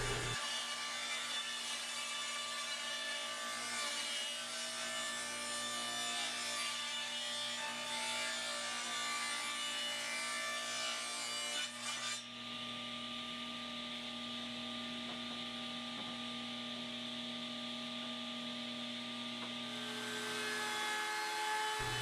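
Table saw ripping wood strips down to 1.5 inches wide for a play table build, a steady loud whining cut with dense grinding texture that runs nearly the whole time, shifting pitch midway as the blade frees up, with no talking.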